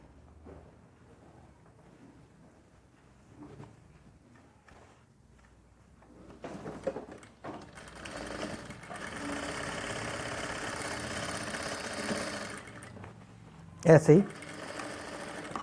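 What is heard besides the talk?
sewing machine stitching velvet fabric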